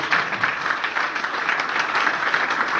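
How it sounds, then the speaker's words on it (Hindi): An audience claps in sustained applause, a dense continuous patter of many hands heard close throughout, with no voices over it. "ताली बजाओ बजाओ बजाओ।"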